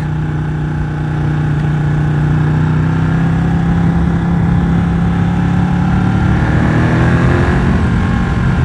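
A Ducati 1199 Panigale superbike's engine runs loud and close, a steady heavy drone that swells slightly as the throttle opens toward the end, with no talk.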